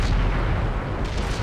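Artillery fire in a Cold War tank battle video game, a dense, loud rumbling barrage of overlapping booms filling the whole moment with no pause.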